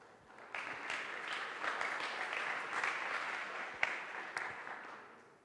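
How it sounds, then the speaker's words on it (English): An audience at a conference session applauds a speaker, a steady wash of clapping from many hands that swells, holds for several seconds and then tapers off, at moderate distance with no talk. "A big applause for him."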